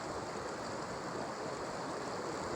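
Rock Creek, a mountain stream along the John Muir Trail in the Sierra, rushes steadily. The soft, even wash of water is heard alone at a moderate distance for the whole stretch.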